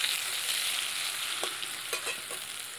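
Koi fish frying in a pan with turmeric sizzles steadily while a spatula stirs it, giving a few soft scraping strokes over the constant crackle.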